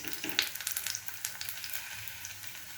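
Meat sizzles and crackles in a hot pan, a dense bright hiss with quick popping spatters, while faint voices speak nearby.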